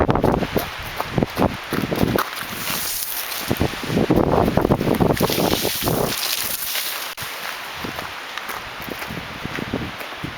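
A fall wind storm on Salt Spring Island roars through the forest in loud gusts, with rustling branches and leaves and heavy wind buffeting on the microphone.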